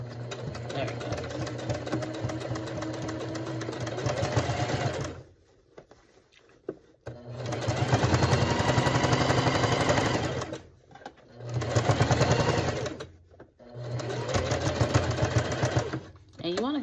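A sewing machine runs in long, steady whirring bursts while stitching elastic onto a two-piece Dickies outfit, stopping briefly between runs for short quiet pauses, close and loud.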